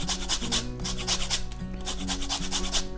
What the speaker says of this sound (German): Und ich reibe mir noch ein bisschen Zitronenschale ab, ungefähr die Hälfte der Zitrone.